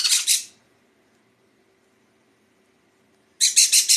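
A baby sun conure about three and a half weeks old chirps during hand feeding, giving two short bursts of shrill, squeaky calls separated by several seconds of near silence. The calls are loud and close.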